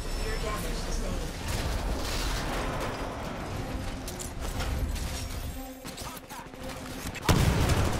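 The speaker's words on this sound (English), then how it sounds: "Firing laser core." A Titanfall titan fires its laser core in a pre-alpha bounty hunt match, a sustained loud roaring blast amid dense gunfire and explosions, with a synthetic voice talking over it.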